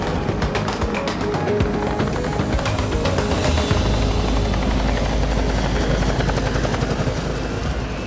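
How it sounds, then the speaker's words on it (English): A Eurocopter EC-665 Tiger military attack helicopter flies close by, its loud, steady rotor thump and turbine roar filling the air without a break, with no voices. "The agility of the Tiger makes it one of the few helicopters in the world to be able to carry out a loop."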